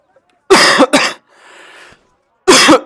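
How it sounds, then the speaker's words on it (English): Three harsh, close coughs, two in quick succession and then a single one after a short pause, with soft breathy noise in between. "My cough is still kicking about."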